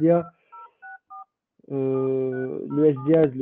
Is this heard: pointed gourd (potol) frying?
no